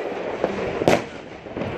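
Fireworks go off during a 2018 display in Germany, a few sharp bursts and crackles at close to medium range over a steady background hiss, no talking.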